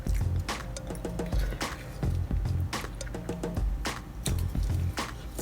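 Ketchup squeezed from a single packet onto food, giving repeated wet squishing and dripping spurts in bursts, close and moderately loud against a busy background.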